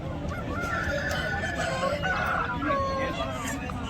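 Country fowl at a Guntur Nallapadu market give clucks and short crowing calls over steady crowd noise, with people talking in the background.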